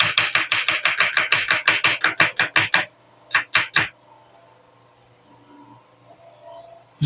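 An onion chopped with a knife on a board, a rapid run of sharp, close taps followed by three slower strikes, then quiet.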